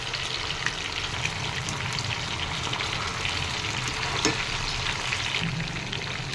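Chicken pakodi frying in hot oil, a steady, dense sizzle and crackle that carries on evenly throughout with a few brief pops.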